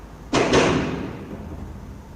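A truck passes over a freeway and makes a sudden loud crash: two sharp, heavy bangs in quick succession that fade into a rumbling decay against steady traffic noise.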